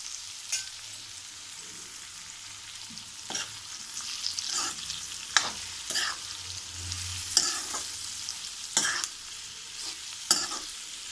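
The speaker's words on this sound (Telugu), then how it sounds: "ఈ ఆయిల్లో కొంచెం ఫ్రై చేసుకుని ఆ మసాలాలన్నీ వేసేసుకుందామండి" Paneer and masala frying in oil in a pan, a steady soft sizzle with intermittent stirring scrapes and clinks of a utensil, close and fairly quiet, no talking.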